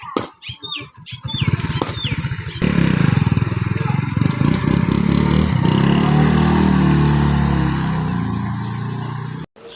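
A motorcycle engine starts after a brief exchange of voices at a rabbit farm in Pakistan, then runs at a steady, loud idle-like drone for several seconds before cutting off abruptly.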